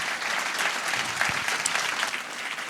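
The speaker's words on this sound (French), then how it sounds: "je voulais qu'on remercie, qu'on applaudisse Arthur" Audience applause at a French talk event with guest Arthur Auboeuf of Team for the Planet, a steady dense wash of many hands clapping throughout, fairly loud and continuous with no talking over it.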